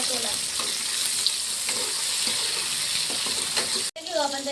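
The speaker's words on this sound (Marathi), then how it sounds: "टमाटर छान गळू द्यायचे आपल्याला तेलात" Tomatoes frying in hot oil with green chillies for a quick garlicky cauliflower dish, a steady close sizzle with faint stirring clinks that cuts off briefly near the end before resuming.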